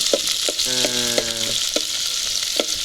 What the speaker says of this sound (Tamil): பச்சை மிளகா கருவேப்பிலை மூணும் சேர்த்து வதங்கிட்டு